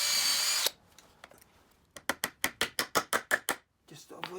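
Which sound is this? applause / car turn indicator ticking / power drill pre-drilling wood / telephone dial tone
power drill pre-drilling wood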